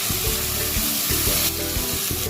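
Spice paste sizzling in hot oil with fried black cumin, a bright, steady crackling hiss close up that runs without a break over a low rhythmic pulsing, no talk.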